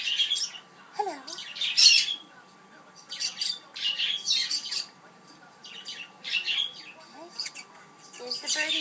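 A pet flock of birds squawks and chirps in repeated shrill bursts from close by, calls overlapping and pausing briefly between outbursts.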